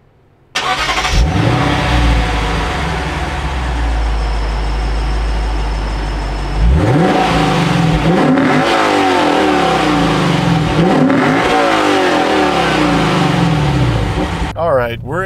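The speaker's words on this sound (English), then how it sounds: "we have a rear-wheel drive car with a 472 horsepower V8" A Lexus RC F with a rear-wheel-drive 472-horsepower V8 starts and roars, holding a loud steady drone before revving up hard through rising sweeps several times, close and continuous with no talk over it.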